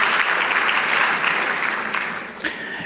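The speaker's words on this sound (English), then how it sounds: "another round of applause" Steady applause from a conference crowd in Botswana, dense clapping that holds for a few seconds and then tapers off a little toward the end.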